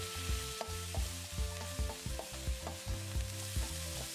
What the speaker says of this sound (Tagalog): Sinasangkotsa lang natin para mawala yung lansa ng ating chicken